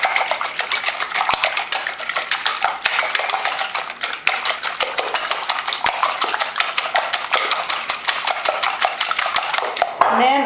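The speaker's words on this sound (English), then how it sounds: "beat 4 eggs." Four eggs beaten briskly in a bowl, a fast, steady run of close metallic clinks and taps that continues for about ten seconds.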